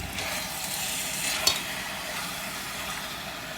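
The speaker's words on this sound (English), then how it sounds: "So you have to constantly be mixing it and making sure that it doesn't stick to the pan." Chicken varuval sizzling steadily in a hot pan while being stirred, a continuous mid-level frying hiss with a brief scrape of the spoon partway through, no talking.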